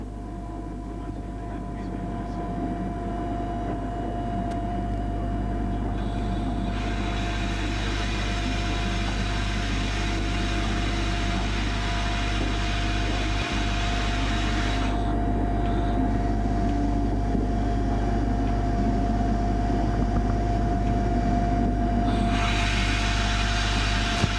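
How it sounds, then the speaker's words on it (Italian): Cab-ride recording of a train running on the Pontebbana railway between Udine and Tarvisio, with a steady loud low rumble and hum of running gear throughout, broadband rolling noise rising and falling in long swells, and a faint voice briefly speaking. "Il treno ha un po' ridotto la velocità"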